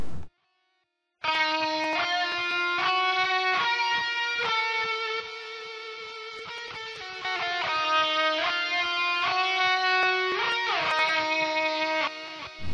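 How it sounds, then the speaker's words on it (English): An electric guitar solo track plays with two radio guitar tracks, giving sustained distorted lead notes and bends over a dense, loud layered guitar bed, with no voices. "And the solo track with both radio guitars sound like this."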